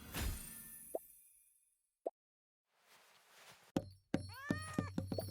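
A cat meows a few times in a cat fantasy video game, short cries separated by pauses, followed by a burst of chiming game effects with sweeping tones.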